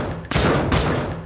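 Gunfire in a Call of Duty Mobile battle royale match: a dense burst of rapid shots fills most of the second, loud and close, with a short gap before the firing resumes.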